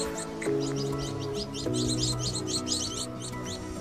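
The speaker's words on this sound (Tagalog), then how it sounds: "Ibon. Anong uri ng ibon yan guys?" Birds chirp and call in quick, repeated bursts along the Bulua dike, fairly faint over a steady low background hum and heard alone.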